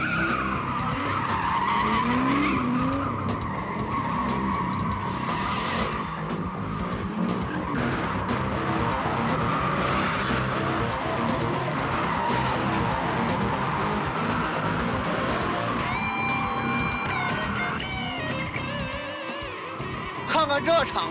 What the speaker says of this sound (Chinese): 你听听这发动机的轰鸣声